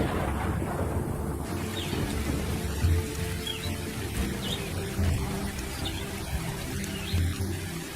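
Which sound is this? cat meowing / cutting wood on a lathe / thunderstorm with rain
thunderstorm with rain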